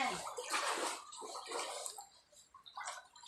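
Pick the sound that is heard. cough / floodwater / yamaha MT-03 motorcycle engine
floodwater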